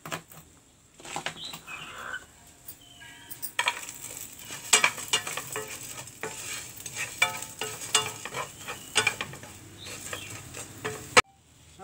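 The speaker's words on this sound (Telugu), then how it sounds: "8 వెల్లుల్లి రెబ్బలు. ఇలా ఘాట్లు పెట్టుకుంటే పేలకుండా వేగుద్దండి." Garlic cloves frying in hot oil sizzle softly and steadily, with intermittent stirring scrapes and clinks of a utensil against the pan, quiet and close, with no voices.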